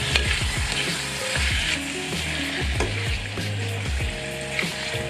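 A tahchin chicken mixture seasoned with turmeric is stirred in a frying pan, spatula scrapes and clacks sounding repeatedly over a steady close sizzle, with no voices.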